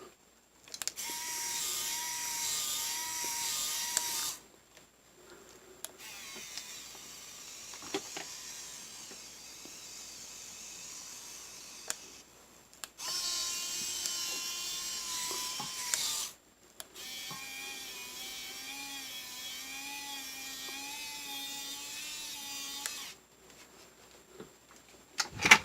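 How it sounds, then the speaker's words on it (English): A small geared winch motor on an Axial SCX10 II RC crawler whirs in several sustained bursts separated by short pauses, with a steady high electric whine whose pitch shifts slightly between runs, heard close and alone. "so you can see the winch working a little better"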